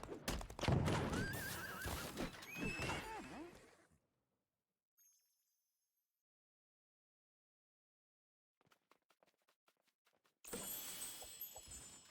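A horse in the video game Disney Infinity 3.0 gives a loud whinny with clip-clopping hooves, then near silence with a few faint taps before a burst of game sound returns.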